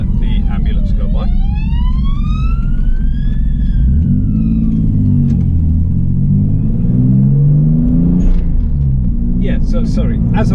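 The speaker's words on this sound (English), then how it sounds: "I'm just going to let the ambulance go by." An ambulance passes with its siren wailing in rising and falling sweeps while engine rumble and traffic noise swell and fade nearby, and someone talks over part of it.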